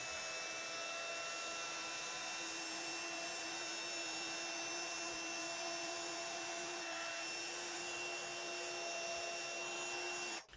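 Heat tool melting embossing powder on a card, a steady, loud blowing whir with a constant tone that runs unbroken for about ten seconds and then cuts off.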